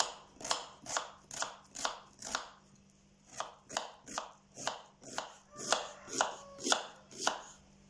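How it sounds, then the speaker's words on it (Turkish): Steady rhythmic knife chops through onion on a cutting board, about fifteen sharp strokes at an even pace, close and clear with a faint hum behind. "Şimdi bu malzemelerimizi soğanımızı yemeklik doğrayalım."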